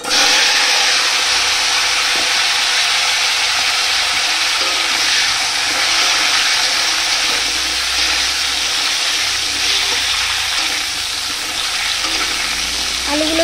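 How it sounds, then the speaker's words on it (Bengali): Potatoes dropped into hot oil already used to fry boal fish, for a capsicum fish dish. A loud, dense, steady sizzle holds without a break for the whole stretch, close by and with no talk. "তো এরপরে আমি এই আলুগুলো দিয়ে দেব।"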